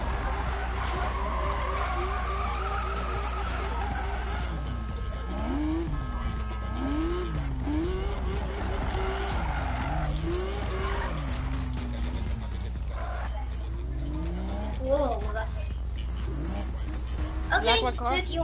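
Race cars roar and tires skid through a street race in Need for Speed Payback, engine tones rising and falling steadily beneath constant voices talking over the action.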